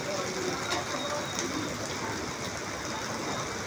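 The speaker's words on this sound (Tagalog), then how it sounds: "Grabe ang ulan na yan. Bigla-bigla." Steady, dense heavy rainfall pours down continuously in Lopez, Quezon, a broad hiss with scattered patter, loud and close throughout.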